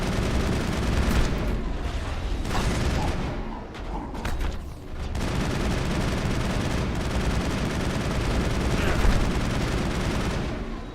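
Gunfire and rocket blasts from the video game Mass Effect, during an assault on a location on Terra Nova: dense, continuous rattling bursts and booms, loud and close for the whole stretch with brief lulls.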